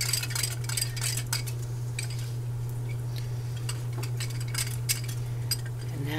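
Broth and flour stirred together in a bowl to make a slurry for pot roast gravy: light, repeated clinks and scrapes of a utensil against the bowl over a constant low hum, with no talking.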